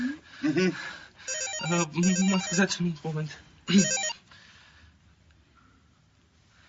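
A telephone rings with a repeating electronic melody, loud and close, in several bursts before it stops; someone speaks briefly near the end.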